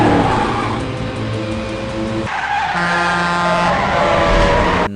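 Cars race through a film chase scene with loud squealing tires and skidding over roaring engines, the sound shifting abruptly partway through as the shot cuts, with no talking.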